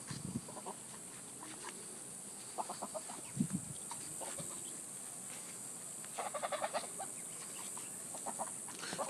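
Ducks and chickens at feeding time, clucking and squawking in irregular bursts close by, with scattered quacks mixed into a busy, steady background.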